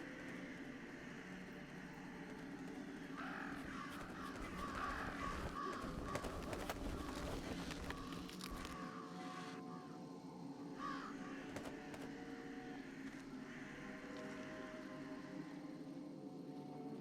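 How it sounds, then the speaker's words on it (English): Crows caw over a continuous outdoor ambience in the Jenny LeClue detective video game, with repeated calls and a flurry of scattering movement partway through. "So, scare all the crows to the tree."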